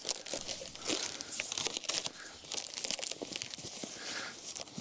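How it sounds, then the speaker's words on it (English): Packaging foam is ripped and crinkled while an FTL Lancer 2.8 m jet is unboxed, a close, continuous scratchy tearing and crunching with no speech over it. "let's just rip some of this foam"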